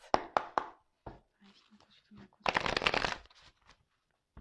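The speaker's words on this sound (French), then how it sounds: "je vais prendre quelques cartes pour voir qu'est-ce qu'il se passe" Tarot cards are shuffled by hand close up, several quick riffling flutters and card slaps, with a voice speaking softly in between.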